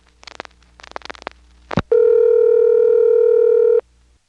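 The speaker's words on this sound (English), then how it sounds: "From the step in the same building, the pulsing noises were very distinct." An NX1 telephone exchange heard down a line through a motel PBX: a brief burst of clicking pulses, then a loud, steady tone that holds for about two seconds before cutting off.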